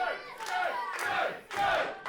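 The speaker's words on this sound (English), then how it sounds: "Crowd desperately trying to rally Joe Dale back into this fire" A wrestling arena crowd roars and chants in three rising surges, loud and full, a rallying cheer for a struggling wrestler.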